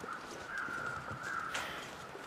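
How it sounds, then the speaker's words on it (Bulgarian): Crows caw in the snowy wilderness of the survival video game The Long Dark, two or three drawn-out calls sounding faint and distant over a quiet, low background. "Па чувам гарги"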